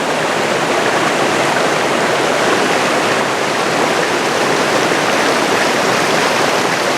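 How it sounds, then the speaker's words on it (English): A pretty waterfall near Lillehammer, Norway, pours down over rocks. It makes a loud, constant broadband rush of water that stays steady throughout, heard close up with no voices. "I've come across another waterfall. Quite a pretty one, this one."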